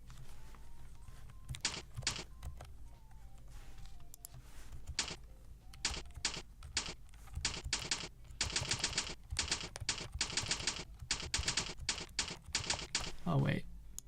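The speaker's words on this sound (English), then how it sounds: "I'm gonna shut up so you can just hear my keyboard." Typing on a Dygma Defy split keyboard, a close, crisp clatter of individual keystrokes that starts sparse and builds into fast, dense bursts, with a brief voice near the end.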